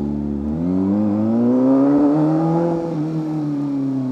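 A 500cc inline-four stroker sportbike engine revs up from idle, rising and holding a strong, smooth whine before easing back slightly; close, loud and steady with no talk over it.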